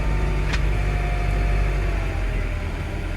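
An LS-swapped 1947 Ford truck idles and creeps backward in reverse, a steady low engine drone with a brief higher whine near the start, fairly close and continuous with no talk.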